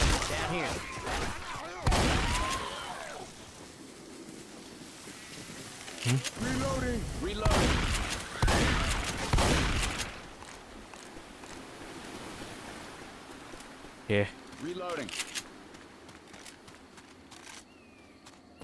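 Gunfire in the video game Left 4 Dead 2 on the Cold Stream campaign, with bursts of rapid shots in several clusters and a loud rushing background while people talk over the game.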